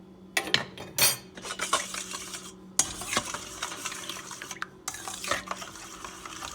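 Cinnamon roll dough of flour, melted butter, salt and dry yeast is mixed in a bowl, giving close, uneven scraping and clinking strokes with brief pauses and no voices.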